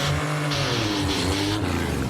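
Indy car engines rev and accelerate at a race start with a loud, continuous mid-pitched roar that climbs in pitch, drops at a shift, and climbs again, with no talking.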